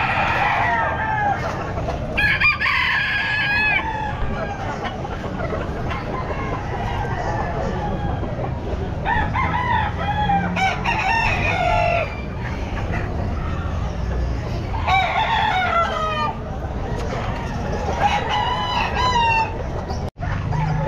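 Roosters crow repeatedly at a pet market, several birds calling near and far with drawn-out cock-a-doodle-doos and clucks over a continuous crowd murmur; someone talks throughout.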